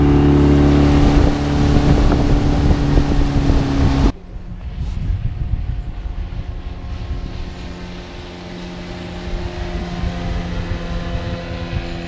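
Storm 13.5 two-stroke outboard motor running on a boat at season's end, a loud steady drone with heavy wind noise that drops to a quieter, rougher running sound partway through.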